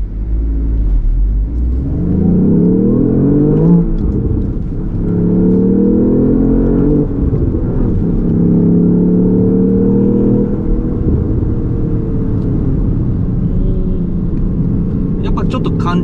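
A Lexus LBX Morizo RR or GR Yaris RZ High Performance on a circuit, its engine revving loudly and close with rising and falling pitch as the iMT blips the throttle to rev-match downshifts, with a voice talking over it.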